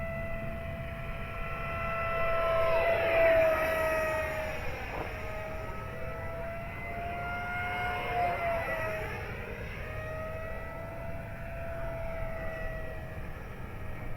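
A small model airplane, an FMS Futura, whines overhead with its buzzing motor, its pitch rising and falling as it swoops past, steady and fairly close.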